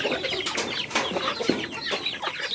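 Parawakan chickens, a mixed brood including decal brown birds, cluck and call in a coop, with repeated short close clucks over steady barnyard background noise.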